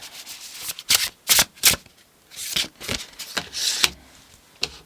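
Tarot cards shuffled by hand in a series of crisp riffling bursts with short pauses between, close and clear with no talking.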